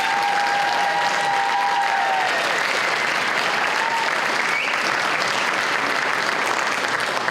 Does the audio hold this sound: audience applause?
yes